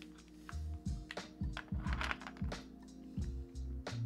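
Keystrokes on an NK65 mechanical keyboard fitted with PBT keycaps, a close, steady run of clacky presses with irregular rhythm and a few louder bottom-outs, no talking.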